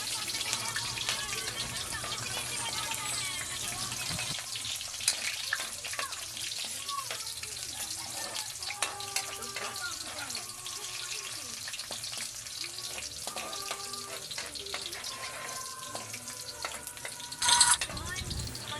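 Garlic and then onion sauté in a pan, giving a steady low sizzle with occasional stirring clatter throughout and a brief louder clink near the end; a faint voice is present.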